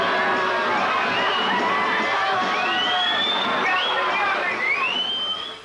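A large crowd fills a street, with loud continuous cheering, shouting and babble of many voices that fades slightly at the end.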